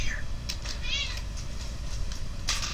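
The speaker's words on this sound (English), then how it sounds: "My cat's in the background meowing like she shouldn't be." A pet cat meows in the background, with a clear drawn-out call amid low rumbling sounds and other indoor noise.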